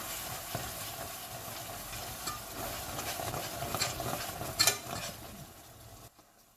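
A spoon stirs a cough-drop mixture of mint, lemon, ginger, honey and cloves in a pan, giving a steady close scraping and bubbling texture with a few louder knocks before it cuts off near the end.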